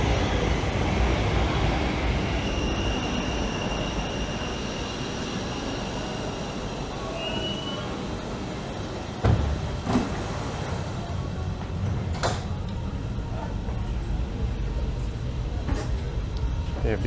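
A Brussels metro line 1 train runs with a continuous low rumble and rolling wheel noise, with brief squeals and clunks of the carriage along the way and a faint voice in the background.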